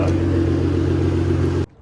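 A twin turbo Infiniti G35 engine revving, a loud, deep, steady drone held close by that cuts off abruptly near the end.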